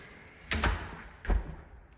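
A condo unit door opens in two solid knocks or thuds about three-quarters of a second apart, fairly close and moderately loud against a quiet indoor room.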